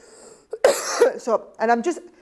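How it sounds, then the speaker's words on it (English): A few short, harsh coughs and throat-clearing sounds close by, broken by brief pauses. "Is anyone else having a cough?"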